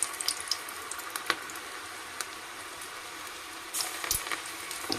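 Small portions of vada batter dropped into very hot oil give a continuous bright sizzle with scattered pops and crackles, growing busier toward the end.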